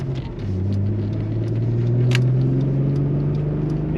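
A naturally aspirated engine in a VW Corrado with a built motor and 268 cams revs steadily, its low drone rising in pitch over a few seconds, loud and close with a constant rumble.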